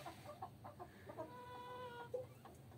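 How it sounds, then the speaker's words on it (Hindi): A large, heavy Thai Aseel rooster clucks in a short run of low, throaty calls, close by and moderately loud over steady background noise. "बहुत अच्छे और बड़े साइज का ये मुर्गा है"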